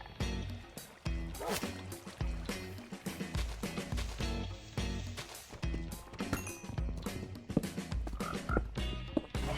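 Repeated croaking of a frog in Minecraft, a series of short, loud, rhythmic calls with brief pauses between them, heard close and alone.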